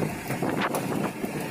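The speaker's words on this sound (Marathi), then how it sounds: "वारा पण खूप जास्त आहे आणि वाऱ्याचा आवाज पण तुम्हाला ऐकू येत असेल" Strong wind at sea aboard a fishing boat catching pomfret in deep water off Mumbai: steady, rushing wind buffeting the microphone with the boat's rumble beneath, continuous and close throughout.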